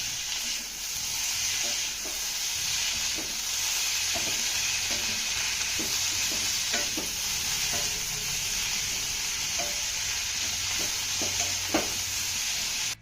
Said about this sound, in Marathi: आता मीडियम वरती हे सर्व साहित्य आपल्याला दोन ते तीन मिनिटं चांगलं परतून घ्यायचं आहे